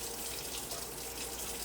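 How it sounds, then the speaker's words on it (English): Tap water runs steadily into a sink during handwashing, a constant close splashing hiss with no talk. "Okay, wash my hands."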